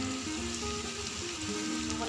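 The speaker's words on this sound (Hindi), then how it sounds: "2 से 3 मिनट फ्राई करेंगे इसको।" Eggs fry in a pan with a brief, steady sizzle, a close, even hiss of hot oil lasting about two seconds without speech.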